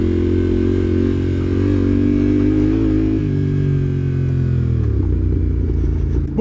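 Yamaha Tenere 700 World Raid motorcycle ridden off-road on gravel, its engine droning loud and close with pitch shifts as the throttle changes and light gravel clatter near the end.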